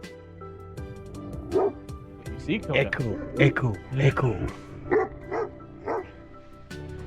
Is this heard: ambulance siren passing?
no